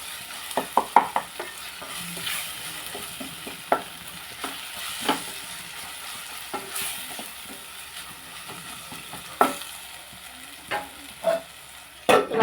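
Potatoes frying with curry leaves in a pan give a steady sizzle throughout, broken by frequent sharp scrapes and clicks of stirring, close and moderately loud, with no speech.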